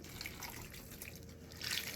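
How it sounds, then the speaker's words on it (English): Three cups of water are poured over a chuck roast, making a steady, close splashing trickle that stays even and swells slightly near the end. "You pour the water over it."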